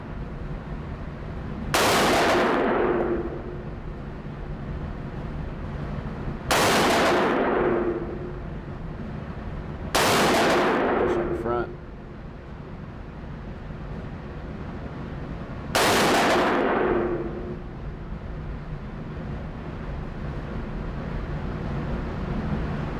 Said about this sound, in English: I'm gonna pull this to the back and shoot a group